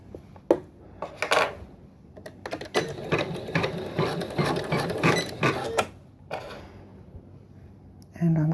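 A Janome MC10K embroidery machine stitches a trapunto quilting design with a whirring, clattering mechanical run lasting a few seconds, set between quieter handling clicks and thuds.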